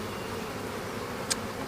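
Honey bees hum at a hive, a steady low continuous buzz close by, with one short sharp click near the end and no voices.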